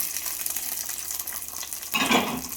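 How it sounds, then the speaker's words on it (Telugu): A curry leaf tempering sizzles and is mixed into katte pongali, a rice and lentil dish. A low frying crackle builds to a sudden louder burst of sizzling and stirring near the end. "కొద్దిగా కరివేపాకు ఈ పోపం తిరిగిన తర్వాత కట్టె పొంగల్లో వేసుకోవాలి"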